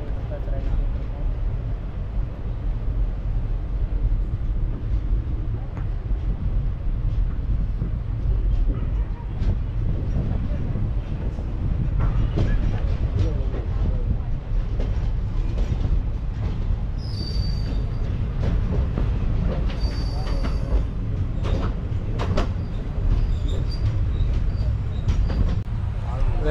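Uzhavan Express pulling out of Mayiladuthurai Junction, a steady heavy rolling rumble with faint high wheel squeal, with people talking nearby throughout.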